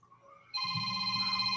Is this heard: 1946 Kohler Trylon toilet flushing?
no